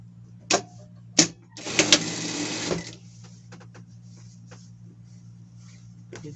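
Sewing machine stitching folded ribbed fabric: a couple of short clicks, then a brief fast mechanical whirr of stitching lasting about a second, heard close up against a low steady hum.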